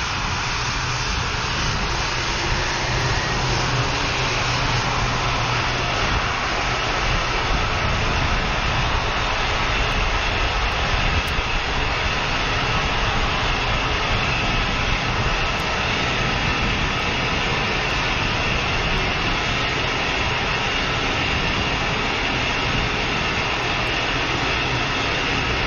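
NASA Space Launch System full-scale solid rocket booster firing in a static ground test, a steady, massive roaring rumble that fills the whole stretch without pause, loud and continuous with no voices.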